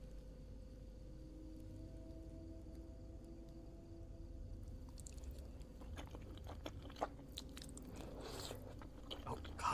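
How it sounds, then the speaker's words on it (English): Loud chewing and biting in the video game Fears to Fathom, faint at first then a burst of wet crunching and mouth noises in the second half, close and intermittent. "Oh god, such loud eaters."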